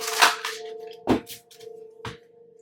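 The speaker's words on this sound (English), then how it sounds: "2 more shuffles." Tarot cards are shuffled in three quick, crisp bursts of riffling and slapping, close by and fairly quiet, against a faint steady hum.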